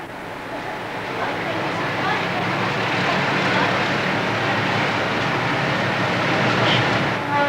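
A passenger train pulls into Puente Ruinas station below Machu Picchu with a steady, loud rolling rumble of wheels on rails that swells gradually, while a voice narrates over it.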